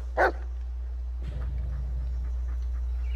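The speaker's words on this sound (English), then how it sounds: "Listen to his barking and watch his body language." A dog barks once, sharp and close, in the Blair Witch video game, then quieter rustling follows over a steady low hum.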